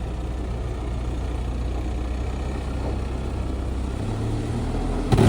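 A tractor pulling a Horsch Serto seed drill works a field, giving a steady, continuous engine drone with a low rumble that holds evenly throughout, rising briefly in roughness near the end.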